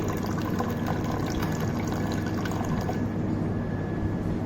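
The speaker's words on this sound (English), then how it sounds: "So water will dispense." A Blue Star Regalus HRRO+UV water purifier dispenses water in a steady, continuous stream that runs unchanged for several seconds, with no talking.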